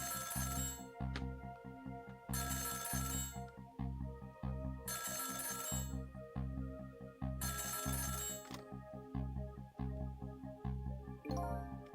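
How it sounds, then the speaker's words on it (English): Telephone ringing in the video game Ghost Trick, four long repeating electronic bell bursts with short pauses between, loud and steady over a low musical drone, no voices. "the phone rang"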